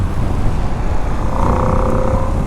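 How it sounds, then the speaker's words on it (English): Ducati Panigale V2 with an 890cc V-twin engine pulling hard under load, a loud, steady growl with a rising tone partway through, heard close and without talk. "This thing has got torque for this V-twin 890cc engine."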